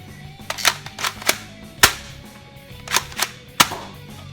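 Dart Zone toy shotgun/pistol blaster firing, a sequence of sharp plastic pops and clicks spaced irregularly, some louder than others, close and with no talk.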